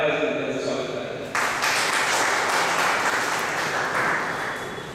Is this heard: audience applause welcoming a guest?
yes